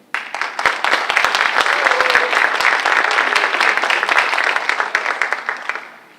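An audience bursts into applause for an introduced guest, Dr. Thomas K. Hudson, the clapping starting suddenly, holding strong and dense for several seconds, then tapering off.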